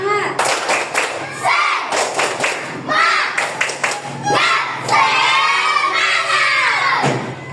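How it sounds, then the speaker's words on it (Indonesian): A primary school class in Indonesia bursts into the rhythmic tepuk semangat clapping chant, sharp clusters of claps mixed with children shouting and chanting together, loud and close in a classroom. "Tepuk semangat dulu."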